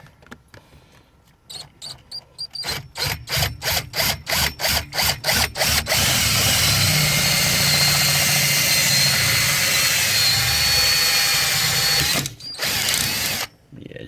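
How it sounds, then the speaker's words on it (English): A power drill runs in short bursts, then grinds continuously at high speed into the metal of a VAG car door lock, with a brief pause near the end before starting again. "we're going to drill it here."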